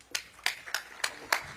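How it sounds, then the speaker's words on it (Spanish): Outdoor audience at a groundbreaking ceremony in El Salvador claps in a few sparse, faint bursts, roughly evenly spaced, with no voices over them. "Un caluroso aplauso al excelentísimo señor Nayib Bukele, presidente de la República de El Salvador."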